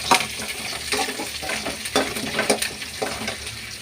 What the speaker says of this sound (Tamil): இது கொஞ்சம் நல்லா வதங்கட்டும். கடலைப்பருப்பு கொஞ்சம் பொரிஞ்சு வரட்டும்.